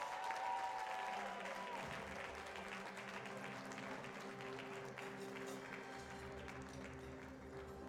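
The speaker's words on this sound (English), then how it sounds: "Let's give every single recipient of an award tonight a big round of applause, please." An awards dinner audience claps for the award recipients in a sustained round of applause that stays steady and moderately loud throughout, with faint crowd murmur beneath and no clear speech.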